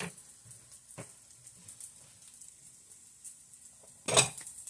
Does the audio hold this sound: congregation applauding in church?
no